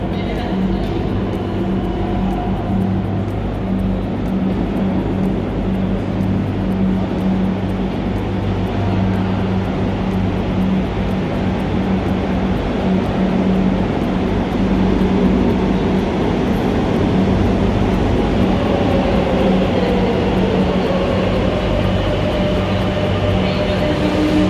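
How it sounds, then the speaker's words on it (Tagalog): Madrid Metro underground train arriving at a station, a loud continuous low rumble and roar that fills the platform, building steadily throughout, with faint voices in the background. "Ayan, coming na ang train."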